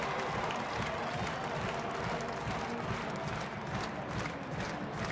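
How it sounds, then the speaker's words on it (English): Baseball stadium crowd of about 34,000 standing and cheering in Denver for a Rockies home game against Houston, hoping for the last out; a dense, steady roar with scattered clapping fills the whole stretch. "Crowd standing and cheering."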